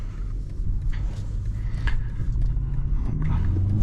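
A 2024 BMW 520i G60 with 208 hp starts to drive off, heard from close by as a steady low engine and road rumble that builds slightly toward the end.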